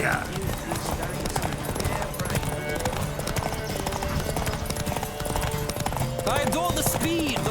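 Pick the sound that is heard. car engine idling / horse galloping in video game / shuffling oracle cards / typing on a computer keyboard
horse galloping in video game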